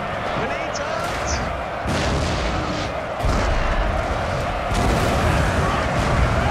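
Grenade explosions on a Napoleonic battlefield in Napoleon: Total War, a series of heavy booms and slams every second or so amid battle din, with a voice talking over them.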